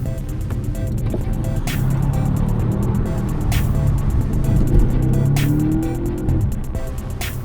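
An Audi RS5 engine runs and revs, a strong steady drone with rising tones and regular ticking pulses throughout, heard up close and loud with no one talking.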